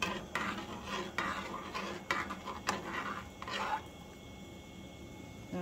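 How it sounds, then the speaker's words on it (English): Boiled macaroni stirred in a pot with a utensil, several wet scraping strokes against the metal, close and moderate, then quieting near the end, no talk. "And let's just mix it."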